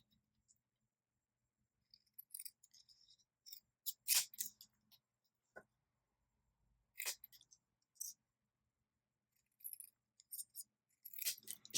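Scissors snipping a strip of Very Vanilla card, short crisp cuts in small irregular clusters separated by silence, close and fairly quiet.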